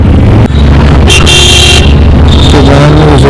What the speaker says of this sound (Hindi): हॉर्न बजाए जा रहे हैं